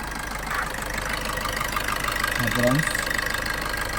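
A 2017 Maruti Suzuki Swift VDI diesel engine idles with a low, even knocking rumble, while a person speaks over it briefly.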